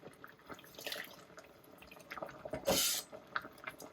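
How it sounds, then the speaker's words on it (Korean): Mulled wine (vin chaud) is poured and strained through a sieve, giving a soft, continuous trickle and dripping of liquid with one brief louder splashing gush near the end, close and alone without talk. "끓으면 이거를 그래도 체에 약간 걸러주세요."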